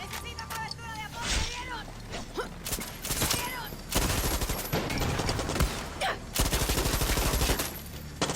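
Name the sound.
gunfire in the video game Far Cry 6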